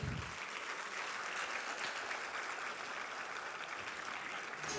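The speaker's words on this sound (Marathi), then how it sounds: "जोरदार टाळ्या मला वाटतं झाल्या पाहिजेत" An audience at a felicitation ceremony breaks into sustained, even applause, a dense wash of many hands clapping that stays at a moderate distance throughout.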